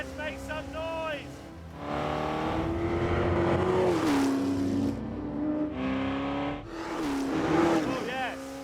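An actual Ford GT40 that raced at Le Mans in 1966 revs hard, its engine note climbing and dropping through several loud surging pulls with wavering pitch, close and dominant.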